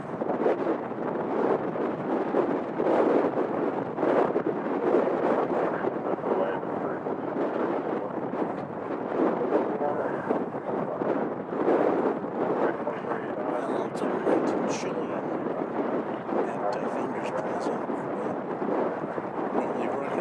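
An airliner making a go-around at DFW Airport, a broad, continuous jet roar and rumble heard from a distance, mixed with heavy wind buffeting on the microphone for the whole stretch.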